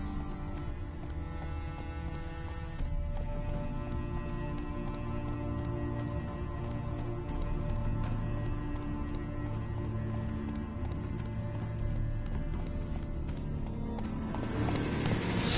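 Roach, a horse in The Witcher 3: Wild Hunt, gallops steadily in-game, a continuous run of hoof clip-clops over a constant low rumble that carries on through the whole stretch without any talk.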